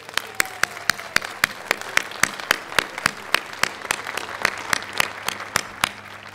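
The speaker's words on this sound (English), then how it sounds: "please give yourselves a round of applause" An audience applauds at the opening ceremony of the Pier 27 James R. Herman Cruise Terminal in San Francisco, with steady, regular claps ringing out over a continuous hum.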